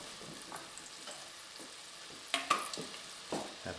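Onion and celery go into melting butter in a pan, a soft sizzle broken by a few stirring scrapes and louder clatters toward the end, with no voice.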